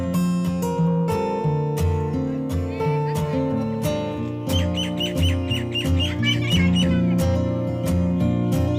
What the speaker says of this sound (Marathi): हे पोपट आहे आणि पोपटाचा आवाज सुद्धा